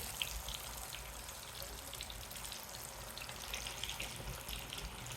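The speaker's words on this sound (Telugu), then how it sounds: "కాగిన నూనెలో ఈ కంద ముక్కలు కొంచెంగా చితిపాం కందని ఆ ముక్కలు ఇలా వేసుకోండి డీప్ ఫ్రై అవ్వాలి" Elephant foot yam pieces deep fry in hot oil with a soft, continuous crackling sizzle that is faint and steady throughout, with no voices.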